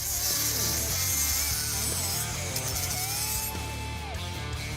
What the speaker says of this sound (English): we can go ahead and dress it up real quick like with a grinder